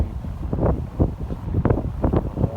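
Gusty wind on a long, narrow boat's deck buffets the microphone in a steady low rumble, with intermittent louder bursts over a continuous outdoor roar.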